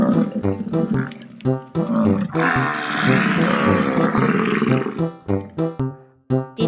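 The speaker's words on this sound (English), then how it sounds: "Correct! It's a bison!" A bison huffs and roars in loud, deep bursts: several short grunting calls, then a long sustained rumbling roar in the middle, then more clipped huffs near the end, with no talking.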